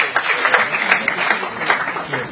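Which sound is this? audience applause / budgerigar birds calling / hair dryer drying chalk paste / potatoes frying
audience applause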